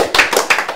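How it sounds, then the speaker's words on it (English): Guests at a dinner party clap in a short, uneven burst of a few hands, close and moderately loud, over about a second. "Clap it up."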